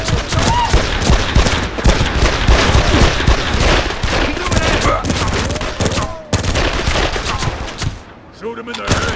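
Heavy gunfire rattles through a shootout in the video game Made Man, with rapid overlapping shots and bursts that are loud and nearly continuous, and voices shouting among them.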